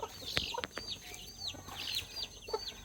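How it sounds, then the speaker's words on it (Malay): Village chickens on a Malaysian farm project cluck and squawk in short, repeated calls, fairly close and moderately quiet, with no talking. "Ini projek ayam kampung."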